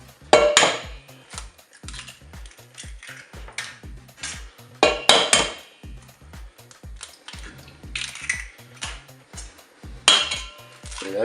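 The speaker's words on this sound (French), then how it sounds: "je vais casser mes œufs dans le saladier" Four eggs are cracked against a mixing bowl one after another in a home kitchen, with sharp clinks and taps in irregular bursts and faint drips and shell sounds between them, close and clear with no voices.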